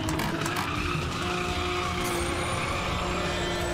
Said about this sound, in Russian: Она просто боком выставляется сама по себе